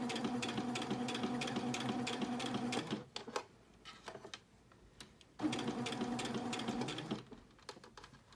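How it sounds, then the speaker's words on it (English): A sewing machine stitches a straight line on quilt binding in two steady bursts of rapid mechanical clatter, close and fairly loud, separated by a pause of a few seconds with light handling noise. "I'm just going to try to sew a straight line."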